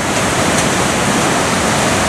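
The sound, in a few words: flooded Congburn River rushing over damaged waterfall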